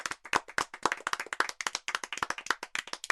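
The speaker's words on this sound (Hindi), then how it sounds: "ताली बजाओ जिन्होंने गिना था।" Children in a classroom clap together, a quick ragged burst of many hands that runs continuously for a few seconds.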